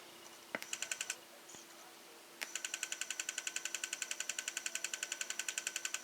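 Bose Wave Radio model AWRCCH CD player ticking and chattering with a fault, a steady fast train of sharp mechanical clicks with a brief earlier burst and a short pause, close and fairly loud, no voices.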